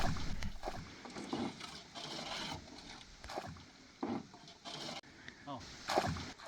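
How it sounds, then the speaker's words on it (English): Repeated scooping and splashing as water is bailed from between the floor ribs of a boat with a big bucket, irregular bursts at close range, with a voice speaking in between. "I need to get rid of the last bits of water between the ribs on the floor of the boat"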